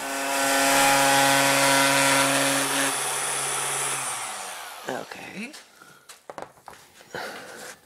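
A power tool saw runs with a high whine for about four seconds, then spins down, followed by clatter and someone speaking.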